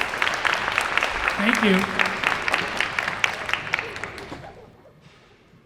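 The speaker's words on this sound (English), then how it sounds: "could we give another round of applause to our Annie performers today?" Audience applause for child performers of Annie at a theater storytime event, a steady broad clatter of many hands that fades out over several seconds, with a brief spoken thanks over it.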